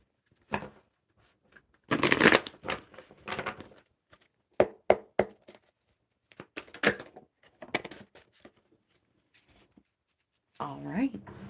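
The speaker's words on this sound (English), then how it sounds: "One more good shuffle with these." A deck of tarot-style cards is shuffled by hand in bursts of crisp riffling and flicking, close and fairly quiet, with short pauses between the bouts and a voice speaking at the end.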